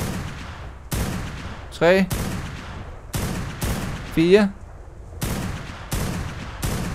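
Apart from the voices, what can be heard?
gunshots fired in a video game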